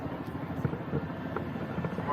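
A helicopter flies over the State Fair of Texas, a steady low rotor drone heard faintly and continuously at a distance behind crowd noise.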